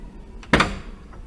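A single solid thud and rattle as someone pushes on a locked door in a park building, brief and fairly close, then quiet outdoor ambience with no talking.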